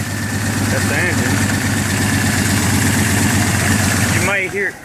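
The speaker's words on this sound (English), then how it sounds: "That's the engine." A Jeep XJ with a misfire, needing new coils, idles steadily close by with a continuous low engine drone, then cuts out near the end.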